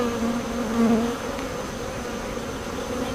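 Honeybees buzzing on a hive frame moved in from a swarm trap: a loud, close, continuous drone with a slight rise and fall in pitch.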